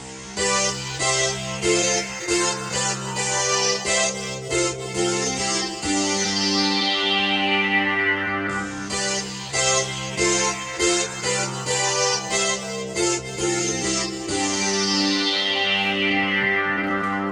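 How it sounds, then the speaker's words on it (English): Bright synthesizer chords on a keyboard played without the sustain pedal, with a buzzy, chorused tone, in short repeated stabs, each cut off quickly, with sweeping high tones between phrases. "the longer you hold that out, the more that synth sound you get"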